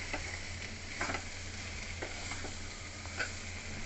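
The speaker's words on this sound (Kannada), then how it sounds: "ಮಿಕ್ಸ್ ಮಾಡ್ತಾ ಫ್ರೆಂಡ್ಸ್ ಫ್ರೈ ಮಾಡ್ತಾ ಫ್ರೈ ಮಾಡ್ತಾ ಇದ್ದೀವಿ" Ground spices frying in a pan for a bitter gourd curry while being stirred, a quiet, steady sizzle broken by a few soft scrapes of the spoon.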